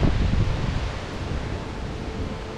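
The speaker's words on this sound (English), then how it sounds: "It's windy." Steady wind gusts across the open lookout above Cumberland Falls in Kentucky on a cool day, a broad rushing roar that is loudest at the start and eases slightly while it continues, with no voices.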